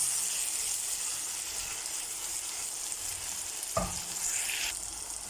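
Capsicum and potatoes with turmeric sizzle in a pan, a steady frying hiss broken by a sharp knock of the spoon against the pan as they are stirred.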